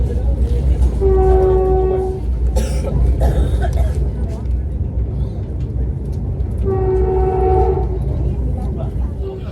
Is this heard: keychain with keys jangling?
no